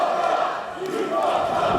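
A wrestling crowd at a Major League Wrestling event roars and cheers in a loud, continuous swell that dips briefly before surging again, with no clear voice above it.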